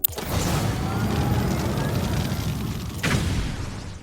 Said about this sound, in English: Here's how the boost and trail sound.